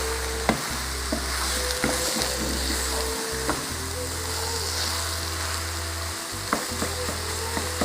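Minced meat browning in a pan, a steady close sizzle and crackle with occasional scraping and stirring taps, loud and continuous throughout.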